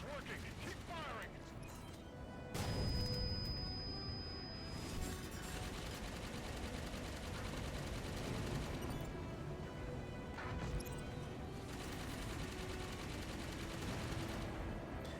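Sustained gunfire and mechanical clatter from the video game Halo 5: Guardians run under spoken dialogue, with dense bursts and occasional louder impacts throughout.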